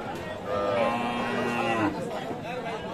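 Cattle at an Aftabganj livestock market in Dinajpur, with a drawn-out low moo rising over steady crowd murmur for a couple of seconds while people talk nearby.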